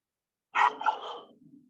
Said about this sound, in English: Sorry, it's a dog here.